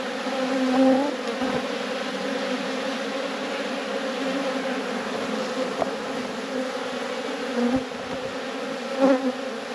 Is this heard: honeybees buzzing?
yes